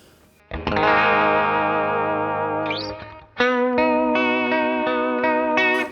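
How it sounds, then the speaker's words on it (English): A Sonicake Matribox II Pro multi-effects unit set to its BBD rotary effect swirls over two sustained electric guitar chords, the first ringing out and fading, the second followed by a string of rhythmic strums, loud and alone. "So I'm going to change this E chorus to a BBD roto there."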